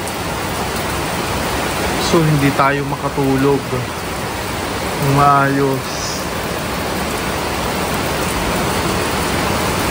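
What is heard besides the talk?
heavy rain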